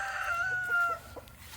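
A rooster in a backyard garden flock gives a short call, one drawn-out tone in the first second followed by a softer trailing note, heard at a distance over low outdoor background noise.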